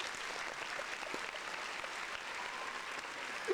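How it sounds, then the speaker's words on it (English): An audience claps in a sustained, even wash of applause that holds steady for a few seconds at moderate volume. "Round of applause for our audience."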